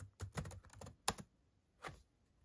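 Someone types on a computer keyboard, quick clusters of close key clicks followed by a pause, a single sharp keystroke, then one more soft tap in a quiet room.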